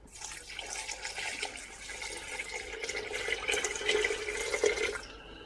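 Cold water poured onto sugared blackberries for cider, a rushing, splashing pour that builds gradually over several seconds and then cuts off, close and alone without talk.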